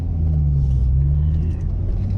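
A 2009 Chevrolet Corvette C6 3LT accelerating, a steady low, rumbling engine drone heard from inside the car, moderately loud and continuous throughout.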